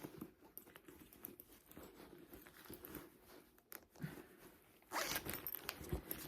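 A zipper on the middle zippered compartment of a three-section handbag, heard as soft scraping runs, the loudest and brightest pull coming near the end, with no talk.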